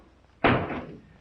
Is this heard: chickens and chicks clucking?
no